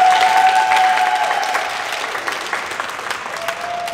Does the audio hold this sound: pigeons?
no